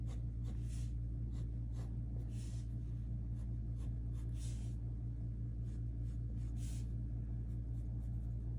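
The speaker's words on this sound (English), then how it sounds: "So I'm sketching up the midsole." Pencil sketching a Converse shoe's midsole on paper, with soft scratchy strokes in short intermittent bursts over a steady low room hum.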